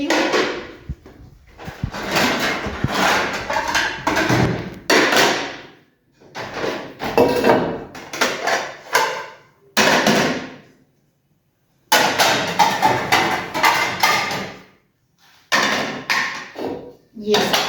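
Metal kadhai and other kitchen utensils shifted and set aside at home: scattered clanks, taps and thuds between stretches of someone talking, close and intermittent.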